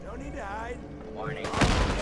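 A sudden explosion in Fallout 4 bursts in near the end, loud and broad after a stretch of talking, with a voice continuing over it.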